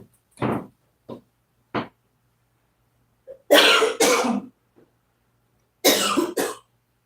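A series of coughs: three short dry ones spaced apart, then louder, harsher bursts of coughing in two close clusters, near and clear with no talk.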